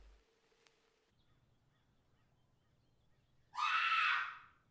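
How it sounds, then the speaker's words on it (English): A single loud, harsh scream in an analog horror short film bursts out near the end, lasting about a second after near silence and a faint low hum. "We're not even 10 seconds in and I hear a scream"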